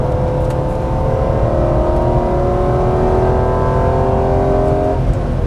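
A high-mileage BMW E46 M3 engine revs hard and holds near its upper range, a loud, steady, sustained wail with rising harmonics, heard close and without talk for several seconds.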